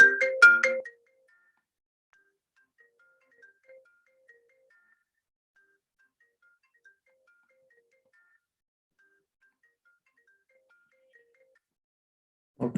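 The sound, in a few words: phone ringtone playing through linked computer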